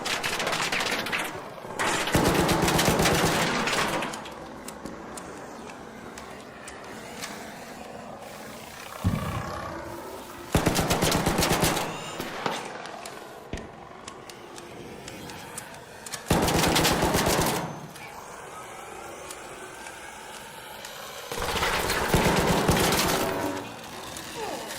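Bursts of rapid automatic gunfire from a shooter video game, coming in several loud sustained volleys separated by quieter gaps, with no talk in between.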